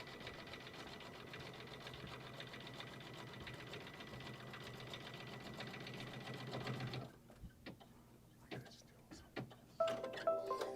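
A Kimberbell embroidery machine quilts with a steady, fast mechanical whir for several seconds. It then slows into scattered clicks and stitch bursts while a person talks over it.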